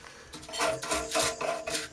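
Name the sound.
cleaning immersion heater threads before wrapping PTFE tape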